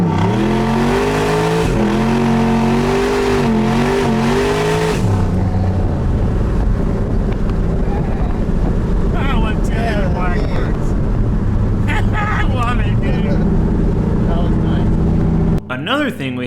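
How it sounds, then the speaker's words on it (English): A turbocharged LS-powered street truck does a burnout, the engine revving and droning loudly with wind buffeting the microphone and people talking over it. "we still haven't done a good burnout, so we had to get one of those in"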